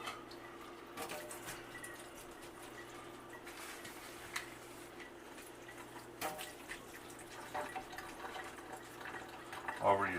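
Liquid draining from relish in a sink, a faint steady trickle and occasional drips running throughout at low level, with a brief louder splash near the end.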